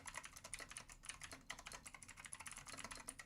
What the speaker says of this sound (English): Y'all like my typing?